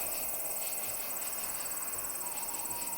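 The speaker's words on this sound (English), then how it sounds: "Letting that train noise just be a jump scare on its own would have been scarier" A train rumbling and hissing in a haunted PlayStation-style demo game, a steady metallic rushing drone with a high, even whine, no voices over it.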